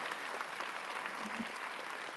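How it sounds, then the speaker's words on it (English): A small audience claps after a question-and-answer exchange, quiet and fairly distant, an even patter of hands with a few louder claps scattered through it. "Let's give Lydia a round of applause."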